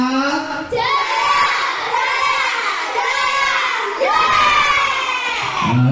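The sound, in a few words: classroom children applauding for Mas Niza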